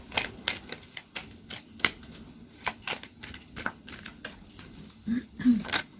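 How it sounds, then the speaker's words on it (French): Oracle cards riffled and laid down in a run of quick, crisp flicks and taps at close range, with a few soft rustles and faint handling noise in between. "Alors, on va prendre 3 cartes pour le troisième."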